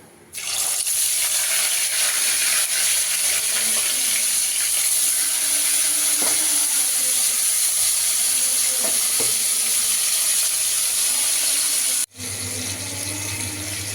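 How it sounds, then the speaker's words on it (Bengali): Fish rubbed with turmeric and salt fries in salted oil in a wok, giving a steady, loud, continuous sizzle for about twelve seconds before cutting off abruptly. "ওইদিকে মাছ ভাজাটা হচ্ছে বন্ধুরা"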